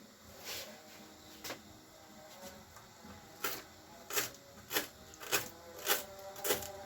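A knife cuts green pepper on a board, a few scattered cuts giving way to a steady series of about six crisp, evenly spaced strokes, close by and fairly quiet.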